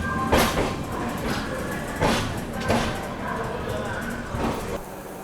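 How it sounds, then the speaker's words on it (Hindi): Howrah Rajdhani Express pulling into Dhanbad Junction station, steady rumbling rail noise with repeated louder clacks of wheels over joints, while a voice talks over it. "अपनी हावड़ा राजधानी एक्सप्रेस अराइव कर रही है the black diamond city Dhanbad के धनबाद जंक्शन रेलवे स्टेशन पे"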